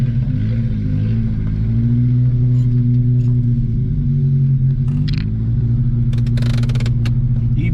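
A worn, smoking 1986 Honda Civic engine idles loud and close with a steady low rumble and a slightly uneven hum, while a few clicks and rattles sound near the end.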